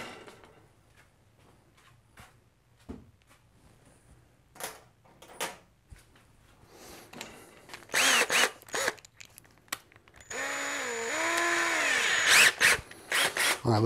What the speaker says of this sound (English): Let's go with our nicer drill bits, because this one just doesn't want to cut it.